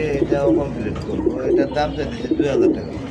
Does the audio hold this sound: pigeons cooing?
yes